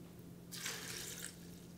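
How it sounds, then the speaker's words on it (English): Water poured into a blender jar holding cashews for a low-fat dip, a soft splashing pour lasting under a second over a steady low hum, with no talk during it. "Next I'll add the water."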